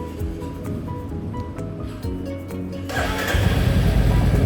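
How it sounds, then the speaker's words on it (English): A Royal Enfield Classic Reborn motorcycle fitted with a FuelX Pro+ module settles at idle, then its engine catches and rises into a louder, fuller running rumble close by, with no talking. "I'm going to start the vehicle."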